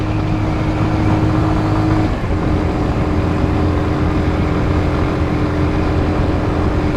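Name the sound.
Kawasaki W175 motorcycle engine climbing a steep hill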